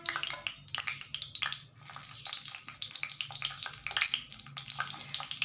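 Potato balls coated in rice flour deep frying in hot oil, a steady, close hissing sizzle with crackling bursts that rise and fall throughout.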